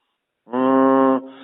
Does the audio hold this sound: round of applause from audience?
no